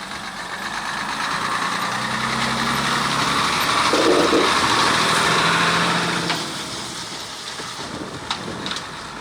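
Vehicles and motorbikes cross a damaged bridge with disjointed metal side slabs, making a loud, steady engine rumble that builds and holds for several seconds before easing, with no voices.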